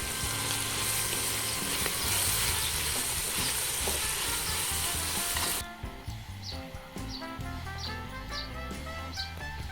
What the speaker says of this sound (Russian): Пока обжариваются лук и морковь